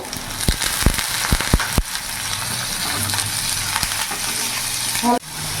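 Diced carrots are stir-fried in a pan for Bengali fried rice: a quick run of sharp utensil taps against the pan, then a steady close sizzle with occasional clinks and no talking.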